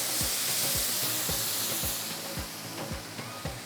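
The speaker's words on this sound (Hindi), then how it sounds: "ये पूरा शीरा इसमें चला जाएगा।" Sugar syrup poured into a hot pan for a suji ka halwa on a switched-off stove, giving a steady loud sizzle with repeated low thumps and bubbling pops throughout, gradually easing slightly.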